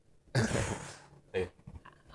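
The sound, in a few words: cough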